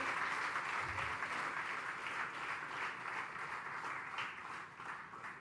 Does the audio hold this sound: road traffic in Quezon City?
no